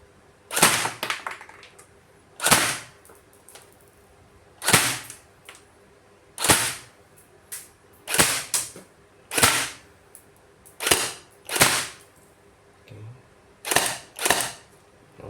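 An SLR M4 WeiHui AEG airsoft rifle with a nylon-geared gearbox firing single shots, about a dozen sharp close mechanical snaps spaced roughly a second apart, some in quick pairs.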